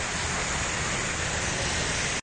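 Strong current of the Kabukalan River pours over a waterfall, a steady, loud, broadband rushing roar that fills the whole stretch before cutting off abruptly at the end.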